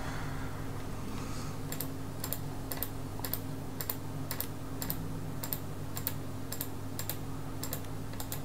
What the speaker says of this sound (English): Apologies for the clicky mouse.